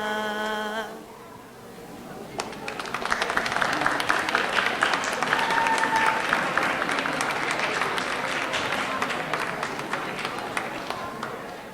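Applause from a school diversity festival audience after a sung lullaby, a sustained wash of clapping swelling after a brief fading musical tail and holding steady to the end, with some talk mixed in.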